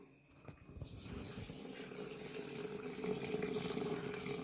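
Water runs into 600 g of sourdough starter in a home bread-making kitchen, making a steady, close gushing pour like a tap that starts after a brief pause and grows slightly fuller as the container fills.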